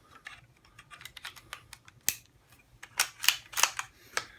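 Integral-suppressed CZ455 .22 rifle firing subsonic ammunition indoors: quiet, sharp clicks and snaps, with several louder crisp reports toward the end, closely spaced and dry with little echo.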